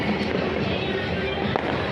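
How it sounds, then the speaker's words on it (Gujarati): Firecrackers pop in a dense, continuous crackle with a few sharper bursts during the Vasi Uttarayan festival in Ahmedabad, loud and close throughout. "અને ફટાકડા તો ફૂટે જ છે"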